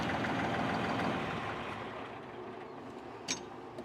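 A New Holland 5630 4x4 CRDi tractor's diesel engine idles with a steady low rumble close by, easing slightly in loudness, with a brief click near the end.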